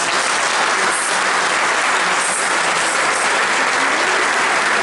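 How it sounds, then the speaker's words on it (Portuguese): A church congregation breaks into sustained applause, a thick, uniform wash of clapping that stays loud and unbroken throughout. "Dá uma salva de palmas para esse irmão."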